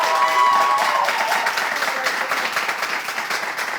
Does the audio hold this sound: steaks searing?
no